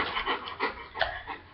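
A dog pants in quick, rhythmic breaths close by, a steady huffing with no talk over it.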